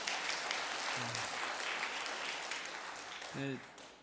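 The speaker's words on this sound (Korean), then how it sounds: "우리 잠깐 우리 박수로 한번 환영하시겠습니다" A church congregation at a Sunday worship service claps to welcome visiting family members. The applause is moderate and continuous, a faint voice or tone breaks in briefly, and the sound swells a little near the end.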